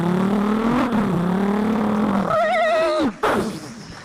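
A voice imitates a Royal Enfield Bullet motorbike revving, a loud, steady, throaty drone that climbs in pitch, then breaks into a wavering whinny-like rise before stopping abruptly, with a brief vocal flourish at the end.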